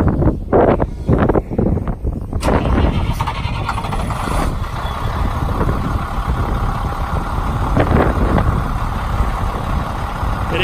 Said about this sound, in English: start the truck up and let you listen to it run.